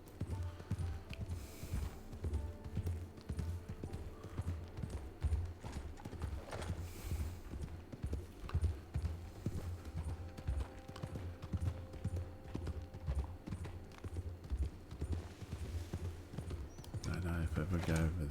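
Horse hooves clip-clop in a steady, continuous rhythm as a horse is ridden in the video game Red Dead 2, the clopping running beneath intermittent conversational speech.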